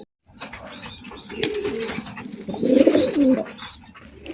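A pair of Kaldom pigeons coo close by in low, rolling calls, with a faint chirp and a brief flutter of wings among the coos.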